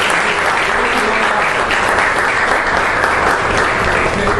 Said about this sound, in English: I think this Thai team requires a big round of applause.